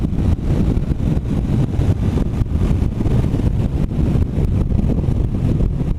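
Royal Enfield Continental GT650 motorcycle engine revving hard while riding: a loud, continuous low roar mixed with heavy wind buffeting on the microphone, with no voices.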